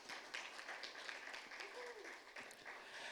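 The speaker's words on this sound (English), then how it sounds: "Round of applause." An audience at a career advice event applauds a speaker, a faint, distant patter of clapping with a few voices mixed in beneath.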